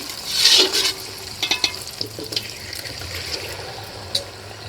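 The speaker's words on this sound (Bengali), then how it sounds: "মশলাটাকে এই দেখুন কতটা সুন্দর করে কষিয়ে নিয়েছি এখন মাংসটা দিয়ে দিচ্ছি" Meat going into a pan of fried spice paste for a 4 kg Patnai chicken curry, giving a loud sizzling splash at first, then softer sizzling and a few clinks and stirring scrapes.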